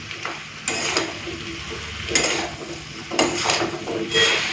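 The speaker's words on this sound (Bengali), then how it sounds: "এরপরে সবজিটাকে ভালো করে ভেজে নিই জল ছাড়াই" Vegetables sizzle as they fry without water in fish oil in a hot pan, with the scraping clatter of a spoon stirring them now and then.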